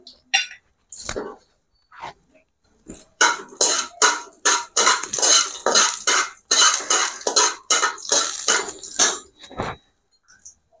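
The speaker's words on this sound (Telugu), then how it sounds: "స్టవ్ ముట్టించుకొని బాండీ పెట్టుకొని ఒక స్పూన్కి ఆయిల్, ఇందులో మెంతులు వేసుకొని వేయించుకోవాలి" Fenugreek seeds roast in a spoonful of oil in a kadai on a stove, making loud, close, rapid crackling and popping in dense bursts, with metal scraping between them.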